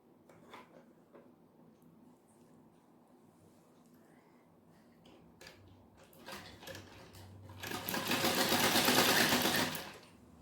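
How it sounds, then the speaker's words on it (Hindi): A sewing machine stitches along a blouse border, with soft handling clicks first, then the motor rising into a loud, close, continuous whirr that fades at the end. "अब हम ये बॉर्डर पे सिलाई मारेंगे"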